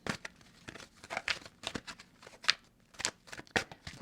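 Playing cards being shuffled and a single card drawn for a horoscope reading, a rapid run of crisp papery riffles and flicks in short irregular bursts, close and fairly quiet, with no talk.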